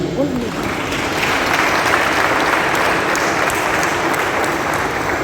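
A large crowd acclaims the marshal at a political gathering in Congo with loud, sustained clapping and cheering, dense and unbroken, with voices blended into the roar.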